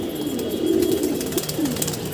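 Low, soft pigeon coos repeat a couple of times over a faint outdoor background, close by and fairly clear.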